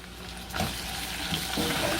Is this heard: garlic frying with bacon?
yes